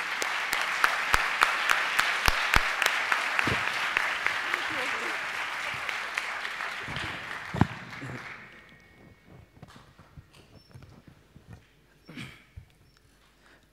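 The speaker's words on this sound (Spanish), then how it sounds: "un gran aplauso" An audience at a university entrepreneurship talk claps steadily for several seconds, then the applause thins into scattered claps, with occasional knocks and shuffling as it dies away.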